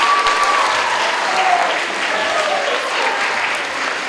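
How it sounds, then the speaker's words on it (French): Audience at a school merit gala clapping loudly and continuously, a thick wash of close applause with faint voices mixed in. "Maintenant, veuillez applaudir vos animatrices pour cette période, Mesdames Victoria Lamontagne et Léa Vallée."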